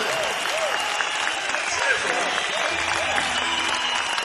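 Audience at a 1974 concert applauding and cheering, a steady dense wash of clapping with whoops and crowd voices throughout, loud and continuous.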